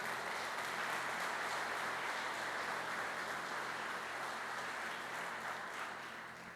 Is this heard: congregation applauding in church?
yes